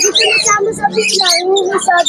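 Birds chirp and call close by in rapid, overlapping notes, mixed with a nearby voice speaking.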